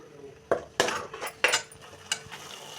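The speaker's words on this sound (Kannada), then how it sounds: "ರುಬ್ಕೊಂಡಿರೋ ಮಸಾಲ, ಸ್ವಲ್ಪ ಹಸಿ ವಾಸನೆ ಹೋಗೋವರೆಗೂ ಕೈ ಆಡಿಸ್ತಾ ಇರಿ" Spoon scraping and clinking against a cooking pan while ground masala paste is stirred, five or six sharp, separate strokes close by with no talking.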